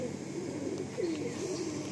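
Tiger line pigeons give a soft, low cooing murmur, faint and continuous over a quiet background.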